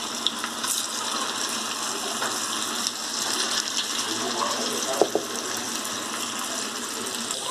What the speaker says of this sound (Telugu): గోల్డెన్ బ్రౌన్ అయ్యేంత వరకు వేయించుకోవాలి